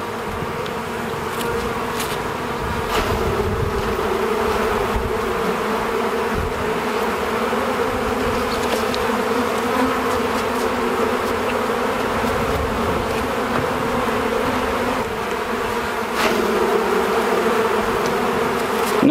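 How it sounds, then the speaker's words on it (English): Honey bees buzz loudly and steadily as they are shaken out of a hive box into another box below, a dense continuous drone with no voices. "Now I am gonna try to shake the bees out of that other box into this one"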